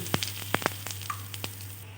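Whole cumin seeds and asafoetida crackle in hot oil with scattered sharp pops and a light sizzle over a low steady hum, close and moderately loud.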